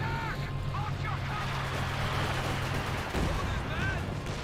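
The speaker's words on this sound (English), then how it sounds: "Looks like heavy mortar barrage coming in from the mortar pit" Heavy mortar barrage in the Company of Heroes 2 strategy game, a dense continuous rumble of distant explosions and battle noise with a steady low hum, under talk.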